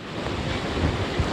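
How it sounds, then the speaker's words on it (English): Strong wind gusts during Hurricane Milton roar across an outdoor reporting spot as a steady, loud rush with buffeting rumble on the microphone, no voices. "the wind gusts are getting really strong here"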